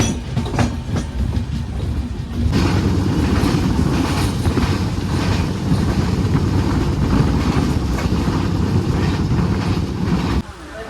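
A passenger train travelling from Thivim station toward Kankavali rolls along with a continuous loud rumble and rhythmic clickety-clack of wheels on rail joints, heard from inside the carriage.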